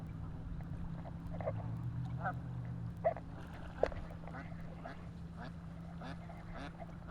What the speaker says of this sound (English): Oh, it's a mama duck and a daddy duck.